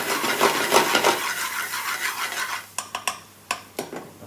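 Ginger garlic and baby potatoes being stirred in a pan over medium-high flame, a steady rubbing scrape of spoon against pan, then several sharp isolated metallic taps and clinks near the end.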